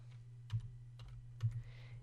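Soft, sparse keystrokes on a computer keyboard, a handful of distinct clicks over a low steady hum, quiet and close with no talking.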